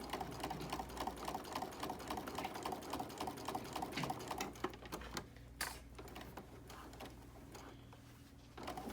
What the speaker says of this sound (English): we're going to start just sewing before the hole, and we're going to lock our stitch there